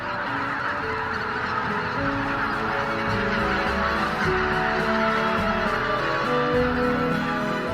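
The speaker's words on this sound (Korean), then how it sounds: "추수는 벌써 끝났고 빈 들녘은 철새들의 차지가 되었습니다" A large flock of migratory geese honks continuously over empty harvested winter fields in Pocheon near the Hantan River, making a dense, layered chorus of calls near and far with no pause.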